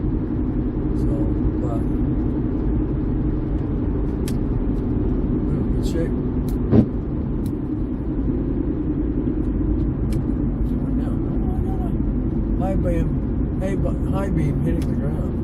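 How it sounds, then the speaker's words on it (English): Cars passing on a nearby road make a steady broadband rumble that runs throughout, with someone talking briefly over it while working on the headlights of an 08 Mercury Mariner. "Got a lot of interference because I got the cars coming on."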